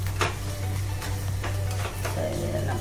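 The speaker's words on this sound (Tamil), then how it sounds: "பச்சை மிளகாயெல்லாம் நல்லா பொரியட்டும்" Green chillies fry in oil for a tempering, giving a soft, quiet sizzle broken by a few sharp scraping stirs in the pan.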